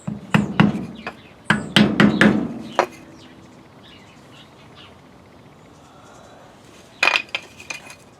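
A wood block taps a metal part during a 1967 front disc brake conversion, sounding as quick clusters of sharp knocks, a short burst early, another mid-clip, then a final group after a quiet stretch.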